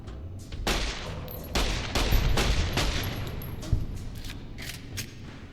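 Laser weapons fire in the game Fallout New Vegas, a rapid run of sharp crackling blasts with a few heavier thumps, close and loud over a low rumble, with no talk.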